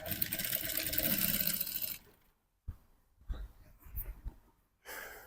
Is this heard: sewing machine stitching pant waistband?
yes